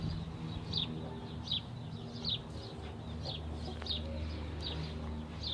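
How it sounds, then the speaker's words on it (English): Chickens at a backyard coop give repeated short clucks and calls at a steady rhythm, moderately near, over a low background rumble of outdoor noise. "I feel like I hear chicken."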